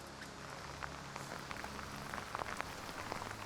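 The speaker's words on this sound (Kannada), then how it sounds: "ಜೋರು ಮಳೆ ಮಾತ್ರ." Heavy rain drums on the forest and on a high wooden canopy walkway at Kuveshi in the Western Ghats, a continuous even roar with scattered sharper drops close by.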